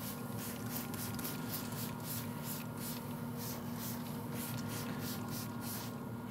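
Steady rapid hissing spray bottle pulses onto pork on a pellet smoker, close by and fairly quiet, repeating in a quick even rhythm with no talking.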